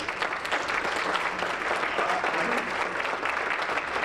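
Audience applause at a concert celebrating African composers: sustained, even clapping from a full crowd, loud and continuous for the whole stretch with no pause.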